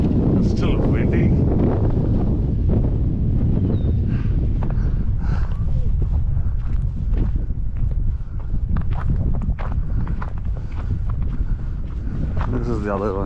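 Strong wind gusts buffet the microphone outdoors in New Jersey the day after a snowstorm, a steady loud roar with a few brief thuds, running alone throughout the scene.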